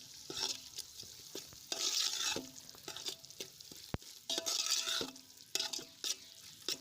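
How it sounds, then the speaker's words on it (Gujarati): Spoon stirring coriander-cumin powder and garam masala in a hot pan for dal baati: repeated scraping strokes in bursts over a light sizzle, close and without speech. "હવે બધું સરસ રીતે મિક્સ કરી લઈશું."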